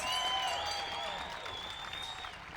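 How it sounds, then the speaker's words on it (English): Audience applause at a stand-up comedy show, a dense, steady burst of clapping from a crowd lasting a few seconds, with some cheering over it. "Let's give her a big round of applause."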